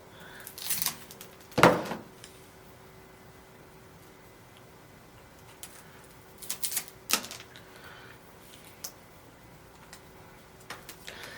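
Pruning a damaged section from a Ficus benjamina: a few short, sharp snips and crisp clicks stand out against a quiet room, spaced several seconds apart.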